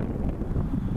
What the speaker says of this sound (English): it's kind of windy out here today